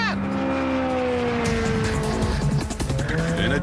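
A Ferrari 430 Scuderia launches hard in a race start, its engine note rising sharply through quick gearchanges, with loud tyre squeal and close, aggressive revving over about three seconds.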